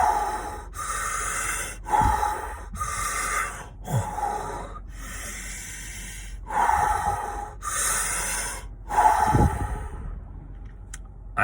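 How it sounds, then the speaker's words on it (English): A person seated in a parked car does a fast, deep breathing exercise, with loud, rhythmic in-and-out breaths repeating steadily through the stretch, close and clear, with no talking. "Fast, deep breathing"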